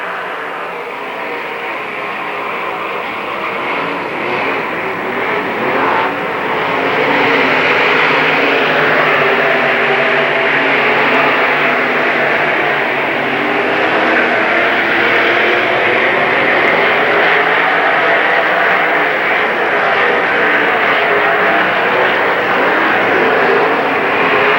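Late model stock cars race in a heat at Lernerville Speedway, a sustained loud engine roar from a pack running nose to tail, swelling slightly and holding steady throughout.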